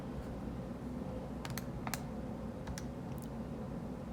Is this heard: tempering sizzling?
no